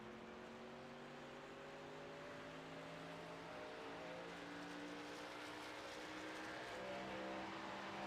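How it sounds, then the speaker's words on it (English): Race trucks circle the track at WW Raceway in Madison, Wisconsin, their engines droning and whining at a distance in overlapping rising and falling tones, faint but continuous. "we can hear the trucks there on track"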